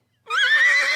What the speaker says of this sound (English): he decided to mix it up a little bit and just play horse noises